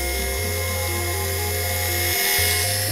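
A toy drill on a Space Miner Lego minifigure, its whirring imitated by a voice as a steady, loud mechanical drone that holds, drops out briefly near the end, then resumes.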